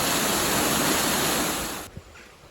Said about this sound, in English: This is Tilston Lock, and that's really before the paddles opened. A lovely waterfall effect.